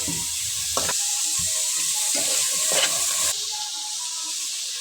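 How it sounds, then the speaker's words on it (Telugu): Vegetable pieces fry in a pan of onion and ginger-garlic paste for a vegetable pulao, giving a steady close sizzle with a few stirring scrapes and clatters, and no one speaks. "మనం కట్ చేసి పెట్టుకున్న ఒక్కొక్కటిగా కూరగాయ ముక్కలు వేసుకుందాం"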